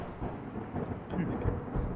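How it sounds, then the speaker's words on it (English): Thunder rumbles overhead during a storm, a dense low roar rising in loudness across two seconds with faint rain texture, continuous rather than a single sharp crack. "Suddenly, there's a deafening thunderclap overhead."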